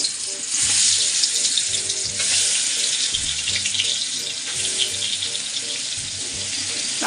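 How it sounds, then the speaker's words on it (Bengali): Prawns frying in hot oil in a home kitchen, giving a loud, continuous close-up sizzle with a few clinks and stirring knocks underneath, no talking. "এবার আমি চিংড়ি মাছগুলো সুন্দর করে লাল লাল করে ভেজে নেবো"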